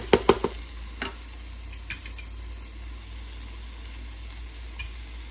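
A spoon scrapes and clicks against a pan as beetroot burfi mixture cooks in ghee. A few sharp taps come at the start, then a soft sizzle runs underneath.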